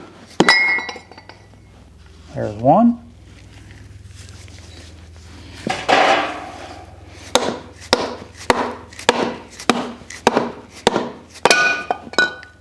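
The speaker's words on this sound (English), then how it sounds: "Just take a soft-faced hammer and knock the end caps off." A soft-faced hammer knocks the end caps off a 7.3 Powerstroke oil cooler with a string of sharp metallic knocks, sparse at first and then in a quicker run, close and loud, with one brief spoken remark.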